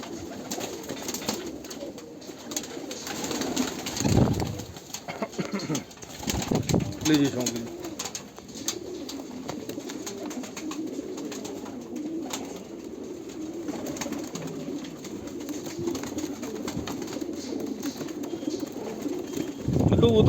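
Sialkoti pigeons coo in soft, repeated throaty calls near at hand, with occasional louder bursts and someone talking over them.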